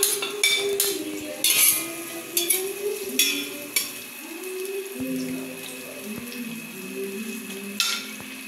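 Ginger sautés in a pan for salmon sinigang, a soft sizzle with scraping stirs and clinks of a utensil against the pan recurring every second or so.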